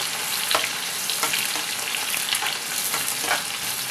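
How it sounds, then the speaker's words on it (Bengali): Onions fry in hot oil in a saucepan with a loud, constant sizzle and crackle, and a few stirring scrapes rise above it. There is no talking. "এখানে আমি পেঁয়াজগুলোকে ভেজে নেব, আর পেঁয়াজটাকে কিন্তু একদম লাল লাল করে ভেজে নেব"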